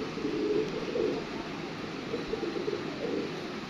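Pigeons coo softly in a series of low, rounded calls repeating every half second or so over a faint steady background hum.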